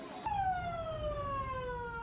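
A fire truck siren wails during a firefighting drill staged as a fire in an apartment shopping complex, with fire engines lining up in a narrow alley. A single steady wail starts abruptly and slowly falls in pitch, fairly close and clear.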